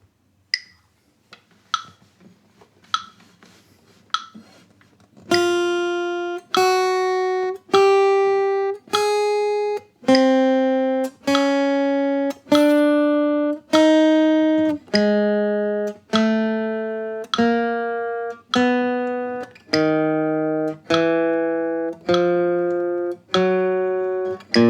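A four-finger exercise on guitar opens with a few soft metronome clicks, then single plucked notes ring out one after another at an even pace, each sustaining before the next, stepping through the pattern with no talking.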